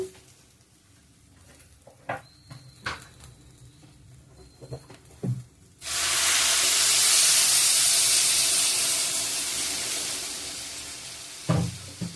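Water poured into a hot pan of frying khichuri ingredients bursts into a loud, sustained hiss and sizzle that slowly fades, after a few quieter clinks and taps of cooking beforehand.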